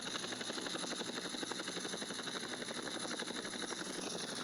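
A helicopter in the video game GTA San Andreas gives a steady, continuous rotor drone with a fast chopping pulse, fairly close and unbroken throughout, with no talk over it.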